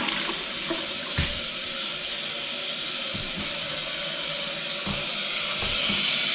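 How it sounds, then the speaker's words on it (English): A freshly set toilet's tank refills with a steady, continuous rush of running water, close and fairly loud, with a few faint knocks along the way and no talking. "Let her fill up and give her a couple of flushes."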